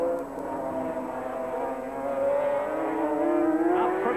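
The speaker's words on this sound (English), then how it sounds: "Up from Starkey's to McLean's into 3rd gear, accelerating away at about 115 miles an hour" Several 500cc Grand Prix racing motorcycles at the 1987 British Grand Prix accelerate hard out of a corner in third gear toward about 115 mph, a loud, continuous rising engine howl close by with no talk.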